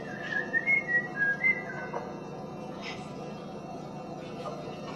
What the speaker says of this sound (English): He whistles a merry tune.